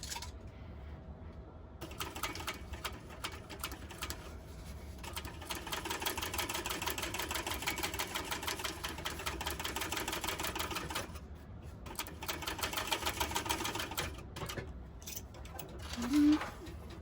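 A sewing machine topstitches a pouch an eighth of an inch from the edge, giving a steady, fairly quiet mechanical whir of rapid stitching that runs almost continuously, with a brief break near the middle.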